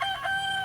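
A rooster crows near a cockfighting setting, a brief clear tonal call held steadily for under a second with no talk.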